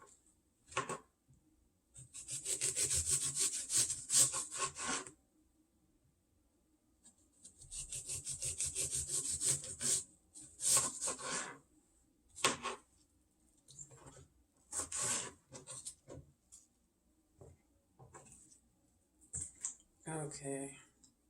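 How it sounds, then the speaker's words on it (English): A knife cuts apples for dehydrating, making repeated close rubbing and slicing strokes in bursts of a few seconds, with a person talking between them. "I'm going to continue to cut, trying to keep my fingers away from the blade."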